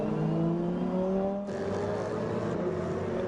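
A race car engine at the Spa 24 Hours drones through the La Source hairpin, its pitch shifting as it brakes and downshifts, then rising again as it accelerates away, loud and continuous with no talk.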